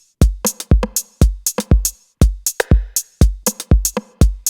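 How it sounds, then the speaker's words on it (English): Snappy Roland TR-909 rim shots cut through a steady dub techno beat of booming kicks and bright hats, alternating in a quick, repeating pattern. "I think I'd like to go ahead and sample a 909 rim in to add to that."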